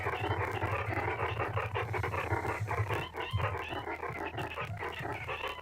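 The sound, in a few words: dog barking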